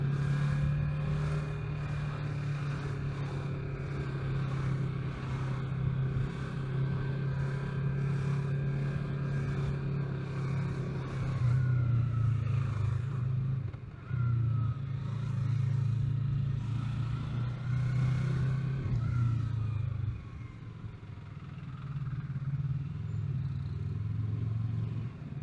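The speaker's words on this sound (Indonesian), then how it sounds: "Ada bunyi guys," Motorcycle engines rumble steadily at close range, a low droning roar with pitch swells and a few brief dips as bikes pass, with no voices over it.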